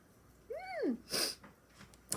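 A voice gives a drawn-out rising and falling "ah" followed by a sharp, breathy burst, like an imitated sneeze, then a couple of quiet sniffs.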